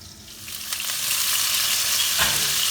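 Chicken for kadai chicken sizzles in a pan after being flipped, with a steady frying hiss that swells a little and a brief scrape, close and with no talking.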